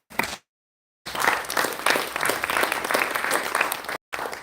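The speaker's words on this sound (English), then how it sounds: "So please give yourselves a big round of applause." An audience applauds at a live community gathering, a dense burst of clapping heard in short segments broken by abrupt silent gaps.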